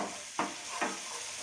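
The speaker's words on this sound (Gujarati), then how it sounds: "હવે આપણું તેલ છૂટું પડે ત્યાં લગી એને સાતળી લઈશું।" Potato masala gravy sautéing in hot oil in a pan, a steady close sizzle with two short scraping stirs about half a second apart.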